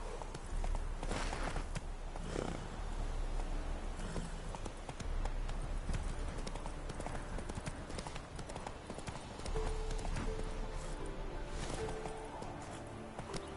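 A horse's hooves clip-clop in a steady walking rhythm across the ground in The Witcher 3 on PS4, continuous and fairly close, with game ambience underneath and a brief voice.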